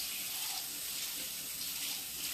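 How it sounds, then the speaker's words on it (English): Water runs from a tap as hands are washed in a kitchen, a steady hissing stream that continues alone and evenly for a couple of seconds. "I'm going to wash my hands again."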